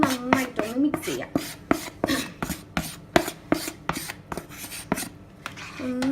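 Chili powder, turmeric and salt are mixed into a coconut milk fish curry, giving close, repeated scraping and rubbing strokes of a utensil against the pot in an irregular quick rhythm, with no talk.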